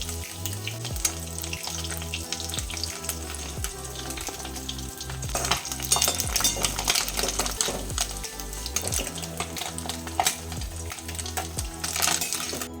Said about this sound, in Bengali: এক পিঠ হালকা করে ভাজা হয়ে গেছে, অপর পিঠ উল্টে ভেজে নিচ্ছি।